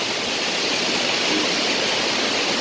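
Clear spring water rushing steadily at a natural bathing place in North Sumatra, a loud, constant hiss of flowing water close by.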